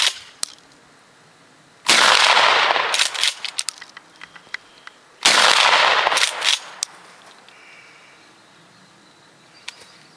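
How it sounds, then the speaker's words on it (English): Mossberg 500 shotgun firing 2¾-inch Remington slugs at a steel target about 50 yards away in a field: two loud, sharp blasts a few seconds apart, each followed by a rolling echo, with insects faint in the background. "I'm gonna try to hit the steel target over there. It's like 50 yards or something. With a 2¾ inch Remington slugs."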